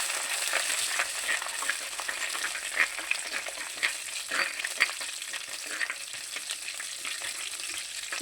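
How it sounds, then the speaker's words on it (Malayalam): Fenugreek and cumin seeds sizzle and crackle steadily in hot oil, a dense continuous fry with scattered pops, close and fairly loud, with no talking. "നന്നായി പൊട്ടുണ്ട് കേട്ടോ."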